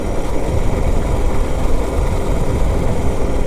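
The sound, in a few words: DR650 motorcycle engine while riding slowly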